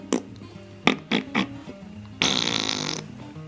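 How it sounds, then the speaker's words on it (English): A baby makes a string of short, wet, buzzing fart noises with the mouth, several brief bursts followed by one longer spluttering raspberry, close and loud. "you like them fart noises?"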